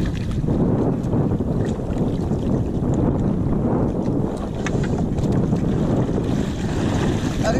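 Wind roars across a microphone aboard a fishing boat at sea, a loud, continuous buffeting rumble with gusty swells and faint water noise beneath, no speech.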